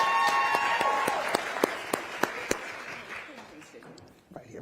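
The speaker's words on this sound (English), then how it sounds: "Give her a round of applause." An audience at a college presidents' town hall applauds Dr. Beverly Hogan. Broad clapping starts full, then thins and fades, leaving a few distinct loud claps and a quieter tail where a voice begins.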